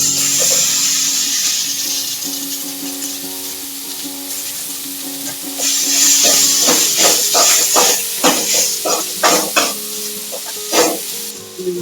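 Shredded shark fish hits a hot pan of sautéed onions with turmeric, sizzling loudly at close range. A spatula stirs and scrapes it in a quick, irregular rhythm over the steady frying hiss.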